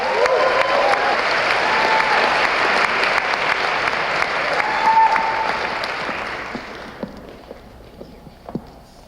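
An audience at a Green New Deal town hall forum in New York applauds loudly and steadily, then the clapping thins into scattered claps and fades over several seconds.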